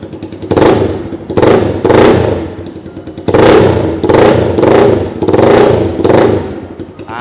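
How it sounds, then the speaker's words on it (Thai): A 2017 GPX Legend 150 motorcycle engine revs loudly and close in repeated bursts, about seven sharp throttle blips with brief idle gaps between them and no talking. "เสียงโวกเวกโวยวายมากครับลูกค้าเจ้าคันนี้นะ"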